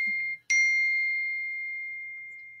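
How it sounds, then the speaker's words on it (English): A phone notification gives a short clear chime, then a second brighter ding that rings out and slowly fades, close and alone in quiet. "That was my phone ding."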